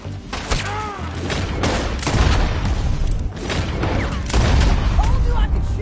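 Rapid volleys of gunfire in a video game, loud repeated cracks and booms in clustered bursts throughout, with voices talking over the shooting.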